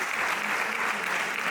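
Audience clapping at a university closing ceremony, a dense, steady burst of applause from a crowd, loud and sustained throughout.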